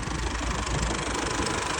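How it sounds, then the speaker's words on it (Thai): A Chevrolet Colorado pickup engine idles steadily up close, a smooth continuous rumble with no talk over it. "นี่เสียงเครื่อง"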